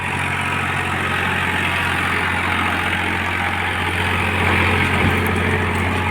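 A steady, low diesel engine of a Farmtrac 60 EPI T20 tractor idles continuously with a deep rumble, rising slightly in loudness near the end; no voices.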